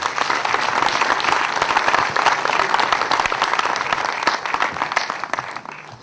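A crowd at a football league gathering applauds the president of the Centre-Ouest league, sustained loud clapping filling the room for several seconds and tapering slightly at the end.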